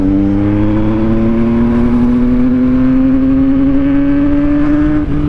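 A Yamaha MT-09 motorcycle accelerating to overtake, its engine note rising steadily and loudly, close up throughout with wind rumble underneath.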